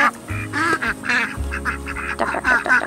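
A flock of ducks out on a pasture quacks in a busy, overlapping chatter of short nasal calls that continues steadily, moderately close, with no one talking over it.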